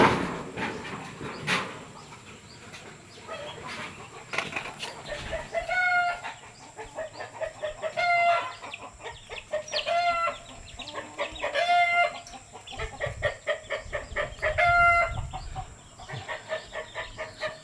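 Chickens at a home yard, with repeated clucking and a rooster crowing several times at a roughly regular pace, fairly close and clear with no talk.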